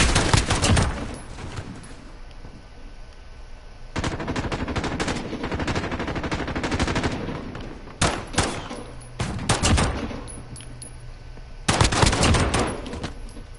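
Sustained automatic weapon fire in a video game firefight, loud bursts of machine-gun rattle coming in several waves with brief lulls between, close and dense.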